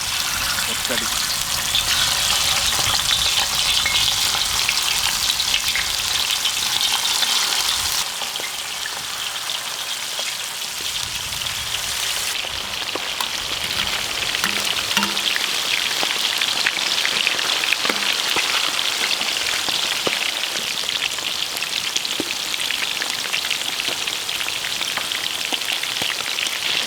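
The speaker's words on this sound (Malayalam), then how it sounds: "വറുത്തെടുക്കാം. കുറേ എണ്ണം ഇടാം ഒറ്റടി." Many quails dropped into hot oil in a pan outdoors in a village sizzle with a loud, dense, rain-like crackle that runs continuously, with talking intermittently over it.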